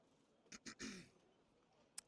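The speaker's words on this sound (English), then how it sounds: "I had to clear my throat." A person clears their throat in a few short, rough bursts, fairly close and quiet, followed by a brief click.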